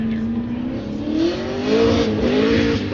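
Matt Haugen's Nissan R34 Haugen Racing drift car revs hard on a Formula Drift course, the engine note climbing and falling steadily as a commentator talks over it.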